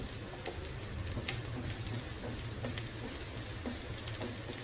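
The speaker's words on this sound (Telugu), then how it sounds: "మిర్చి కూడా ఫ్రై అయింది వెల్లుల్లి కూడా ఫ్రై అయింది" Green chillies and garlic fry in a pan for cabbage manchurian, a steady dense sizzle with scattered crackles and pops running throughout, close and fairly even in loudness.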